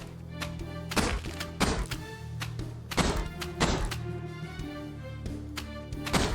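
Cannon shells firing in the tower-defence game Neon Defence, a series of punchy thuds repeating at irregular intervals over a steady tonal music bed, with no voices.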